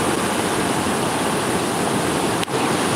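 Ocean waves at Calang roar in a steady, dense wash of surf, loud and continuous with no voices.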